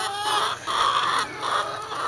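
Hens of a laying flock, thirteen birds in a backyard garden coop, cluck continuously in overlapping bursts at close range, with no talk over them.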